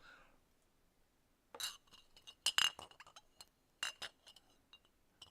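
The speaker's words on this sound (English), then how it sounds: "Ah, glass bottles, behold." Glass bottles clinking together in several sharp, bright knocks, a couple of louder clusters separated by quiet gaps, close and isolated.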